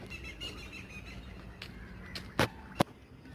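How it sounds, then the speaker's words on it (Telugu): Birds chirp in a walking park during a morning walk, with faint scattered calls over a soft background hum and a couple of sharp clicks near the end. "వినండి పక్షుల కిలకిలలు, పక్షుల రాగాలు, పక్షుల కువకువలు."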